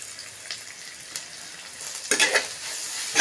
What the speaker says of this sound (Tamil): வெங்காயத்தை இது வதங்கின உடனே பச்சை மிளகாய் போடலாங்க